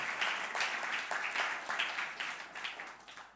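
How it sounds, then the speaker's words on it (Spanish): A church congregation applauds in a steady, moderately loud burst of many hands that rises and falls in waves, with no talk over it. "Dele un aplauso al Señor porque eso es una realidad"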